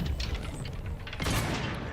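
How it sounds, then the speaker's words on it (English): An explosion in The Outer Worlds 2: a dense low rumble of distant blasts and gunfire-like bursts, swelling into a brighter, louder burst partway through. "No logical cause for that explosion."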